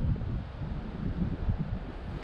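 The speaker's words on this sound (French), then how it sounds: "Toujours du vent, mais" Steady wind buffeting a microphone outdoors near beehives on a cold day, a low rumbling roar with gusty fluctuations and no talking.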